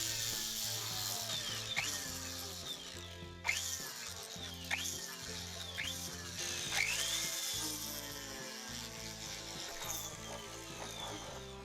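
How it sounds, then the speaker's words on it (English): A small drill with a 1mm bit whirs steadily as it bores through a silver ring, with faint squeaks and scraping as the bit bites, close and fairly quiet throughout. "I use a 1mm drill bit to drill all the way through."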